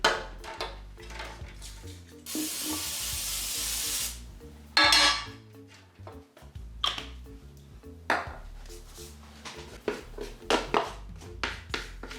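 A sustained hiss of spray lasting about two seconds, then a shorter burst, amid clinking and kitchen handling noises.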